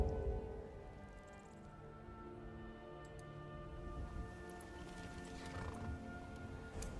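Horse hooves clip-clop steadily over a busy, layered backdrop of game music and ambience, with a brief whinny-like sound partway through.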